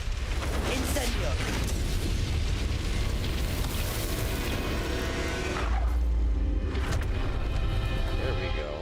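An Incendio fire spell in Hogwarts Legacy lets out a loud, sustained roaring blast with rumbling booms, dense and continuous for several seconds, and a voice talks over it.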